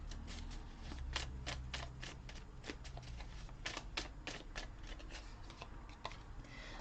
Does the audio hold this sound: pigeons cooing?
no